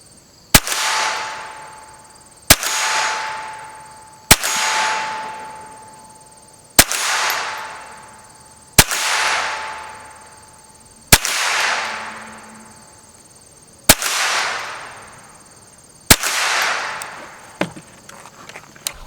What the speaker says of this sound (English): All right, I'm gonna shoot this thing from the bench.